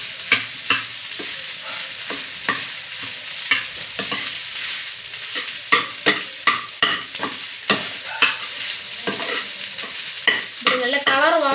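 Egg rice is stirred and fried in a hot frying pan, with a quick run of sharp scraping strokes over a constant sizzle, close up and with no voices.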